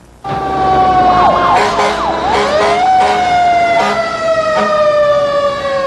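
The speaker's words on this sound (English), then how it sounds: "Another night, another siren in south central Los Angeles" A loud emergency siren wails continuously in south central Los Angeles, its pitch sweeping up and down in overlapping tones, close by and steady for several seconds.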